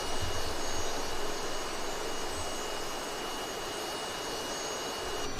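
Engine noise from a Cessna T-37 Tweet twin-jet trainer in a flight simulator game, a steady broadband roar with a high whine that holds loud and unchanging throughout, with no voices.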